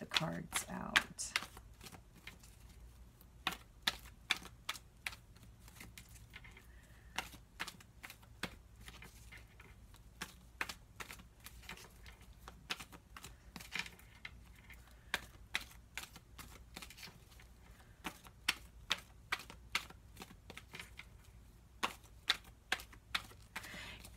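Tarot cards shuffled and laid out in quick, irregular flicks and slaps that run through the whole stretch, close and fairly quiet, with no talking over them.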